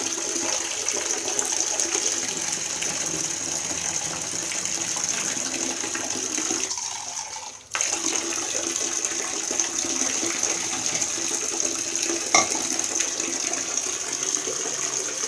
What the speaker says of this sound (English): now I'm going to pour it in the tub as it's still filling up